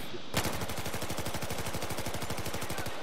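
Automatic gunfire in Battlefield 4 on PS3 in the Pearl Market map, a sustained rapid burst of loud, evenly spaced shots firing without pause for about three seconds.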